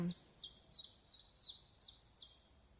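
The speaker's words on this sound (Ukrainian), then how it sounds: "ось пташки підтягують" A small bird repeats a clear, high chirping call about seven times in steady rhythm, faint and alone against quiet background.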